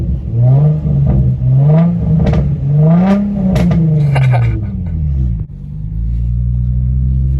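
A Nissan 350Z fitted with a plenum spacer and a 75 mm throttle body spacer pulls hard while driving, its engine note rising and falling through the revs, loud and close, then dropping to a steady lower hum.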